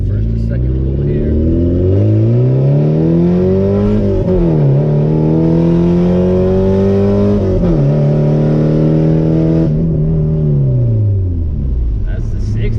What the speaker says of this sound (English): Let's get a little first and second pull here.